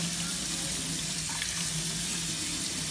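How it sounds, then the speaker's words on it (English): Tap water runs in a steady hiss and splash over cooked macaroni noodles being rinsed under the faucet, loud and constant throughout. "we're going to rinse that off"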